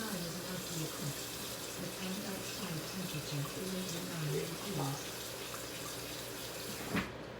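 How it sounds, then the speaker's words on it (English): Cold water runs from a kitchen sink tap in a steady, full stream, close and loud, ending with a brief clunk as the flow stops. "I'm gonna run some cold water in this."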